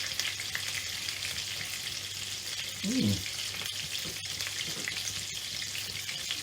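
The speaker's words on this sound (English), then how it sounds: "I'm getting my butter melting down in my pan" Butter melting in a pan before frying steak gives a steady, moderately loud frying sizzle that runs unbroken through the clip, with one brief low clunk near the middle.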